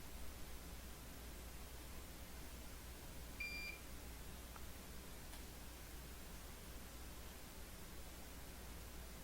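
A soldering station gives a short, faint electronic beep, a single brief tone over a low background hiss.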